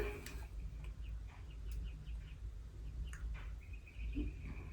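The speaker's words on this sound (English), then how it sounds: "you guys can hear all of the birds chirping" Faint bird chirps drift in from outdoors, short scattered calls over a low steady hum with no talking.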